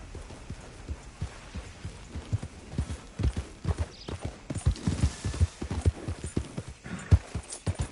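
Horse hooves gallop in a PS4 video game, a quick rhythmic clip-clop of thuds that grows louder and more insistent, heard alone without speech.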